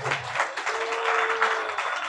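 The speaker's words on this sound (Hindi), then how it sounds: "इनके लिए जोरदार और ताली बजाओ" An audience at a devotional Bhakti gathering in Jaipur claps together in a dense, steady round of applause, fairly close and continuous for a couple of seconds.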